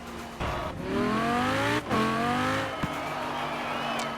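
A 2017 Mercedes-AMG GT R in a racing video game, its engine revving up through rising gears with brief shift breaks, loud and close, with a short squeal near the end.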